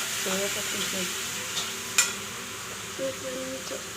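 Street-style lo mein noodles being stirred in a pan with tomato sauce, giving a steady close sizzle broken by short scraping strokes of the utensil and a single sharp clink near the middle.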